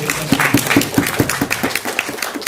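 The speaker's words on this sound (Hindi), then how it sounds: "मैं एक बार ताली हो जाए।" A book launch audience claps in a short, loud burst, with distinct individual hand claps close by in a fairly even rhythm, the clapping tapering slightly toward the end.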